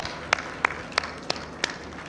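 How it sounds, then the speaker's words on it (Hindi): Sparse, slow hand claps at an opening ceremony for Citi Housing Peshawar, five evenly spaced sharp claps over a faint background hum, close and fairly quiet, no voices. "एक दफ़ा मैं चाहता हूं कि हम सब लोग अपने लिए ज़ोरदार तालियां बजाएं"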